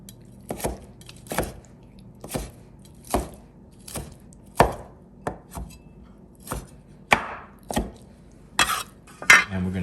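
A knife chops raw shrimp into chunks on a cutting board, with about a dozen sharp, separate thunks at an uneven pace, close and crisp against a quiet background with no talking.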